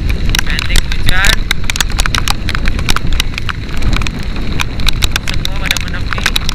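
Heavy rain pelts down during a motorcycle ride while testing Maxxis Extramaxx tires, a loud, dense steady hiss with wind and road noise throughout and someone speaking over it.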